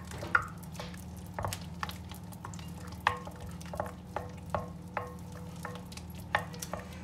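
Dough being mixed with olive oil and flour in a bowl, faint wet squishing and regular tapping strokes over a low steady hum.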